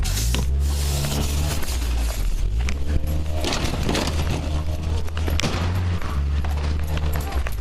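A stolen car's engine revs loud and steady throughout as the driver tries to flee police, with a loud, continuous low rumble and scattered clatter over it.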